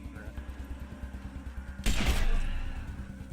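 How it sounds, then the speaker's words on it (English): Sniper rifle shots in the video game Wasteland 2: a regular ticking, thumping rhythm gives way to a single loud, sharp gunshot burst that decays over about a second. "the sniper rifle takes up a lot of AP to fire."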